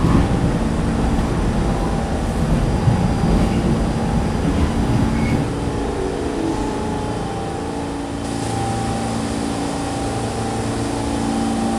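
An R46 New York subway train sits at its last stop, giving a steady, loud rumble and hum of motors and ventilation, with faint mechanical clanks and a slight drop in level partway through.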